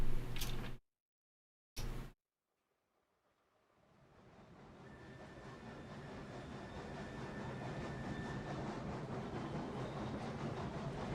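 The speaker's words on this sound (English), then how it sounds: "Push the caboose out of the way." A train in the video game Railroads Online pushes a caboose, starting with a few brief bursts before a rolling rumble with faint clicking builds gradually and holds steady.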